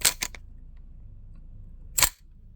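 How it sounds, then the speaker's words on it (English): Magazine clicking into a Crosman R1 4.5mm CO2 BB pistol: a few sharp mechanical clicks at the start, a short quiet pause, then one more firm click, close and distinct. "there you go, mag in. Listen for that audible click"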